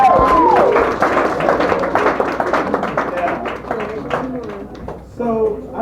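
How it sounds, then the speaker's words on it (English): An audience at a poetry reading claps in sustained, dense applause, with voices speaking and calling out over it before it thins toward the end. "Can we give a hand clap to Gaia's son?"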